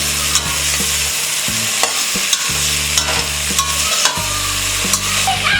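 A spoon scrapes and stirs tomatoes through frying potato pulao, sharp knocks on the pot at irregular intervals above a constant close sizzle, with a low burner hum fading in and out.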